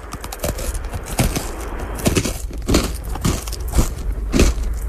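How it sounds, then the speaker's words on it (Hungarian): Someone crunches whole-grain bread close up, irregular crisp bites and chewing crackles repeating across the clip with no talk. "Kenyeret, ropogtat."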